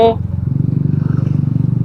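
A Suzuki Smash Type R motorcycle engine, a model known for a noisy engine, idles close by with a steady pulsing low rumble and rapid regular rhythm after a brief tonal blip at the start.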